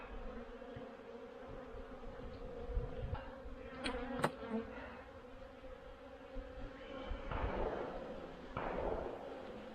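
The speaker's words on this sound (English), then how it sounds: "Stirring the bees up a little bit." Honeybees drone steadily in an opened hive during a Formic Pro mite treatment, a close, continuous buzz with a few sharp knocks and scrapes of hive equipment.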